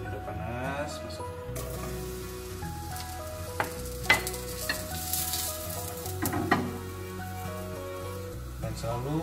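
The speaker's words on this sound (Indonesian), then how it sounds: "Begitu minyaknya panas, yang awal kita taruh yang matangnya paling lama itu mushroom." Mushrooms go into hot oil in a pan and sizzle steadily, with utensil clinks and stirring scrapes, while background music plays over the frying.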